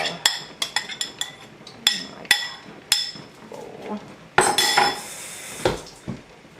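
A utensil clinks and scrapes against a cooking pot while stirring a strawberry jalapeno jam mixture, with a run of sharp metallic taps followed by a burst of louder scraping, and no voices.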